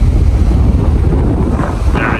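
Steady wind buffets the microphone on a ferry deck as it pulls into port, a continuous low rumble with faint engine or sea noise beneath, fairly loud and unbroken with no talk.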